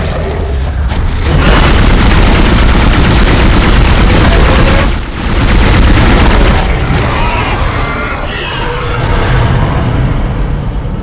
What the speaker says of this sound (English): now we shoot it in the back.